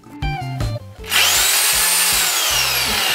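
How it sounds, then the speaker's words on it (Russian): A Crown rotary hammer drill plugged into mains power starts after a few short clicks and handling noises, then runs as a loud, steady high-pitched whine with a faint rhythmic hammering pulse underneath. "Подключила перфоратор Crown также к сети и тоже хочу послушать его работу"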